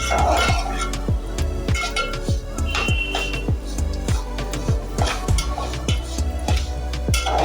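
Vermicelli being roasted for kheer, stirred steadily in a metal pan with a spoon, giving repeated close scraping and clinking knocks in an uneven rhythm with no talking.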